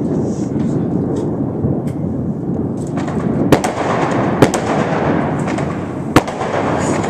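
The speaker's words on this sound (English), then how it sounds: "Nobody does a fireworks show like the Chinese." Chinese New Year fireworks near a city balcony give a loud, continuous crackling roar with several sharp close bangs standing out, like a distant war zone.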